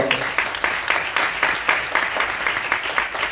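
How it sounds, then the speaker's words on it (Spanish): An audience applauds, steady clapping from many hands filling the room, moderately loud and continuous. "un aplauso"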